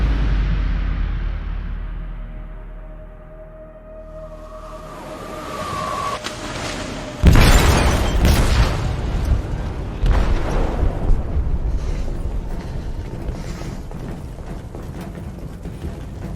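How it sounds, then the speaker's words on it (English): An explosive goes off in a ship's hold in Detroit: Become Human: after a rising hum, a sudden loud blast bursts out, followed by a long rumble with debris crashes and metallic clatter. "They detonated an explosive in the hold."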